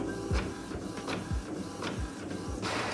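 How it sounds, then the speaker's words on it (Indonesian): A printer runs a page in rhythmic mechanical cycles, with repeated whirring passes and low thumps roughly every half second, close and alone without speech. "Nah kalau udah di print deh."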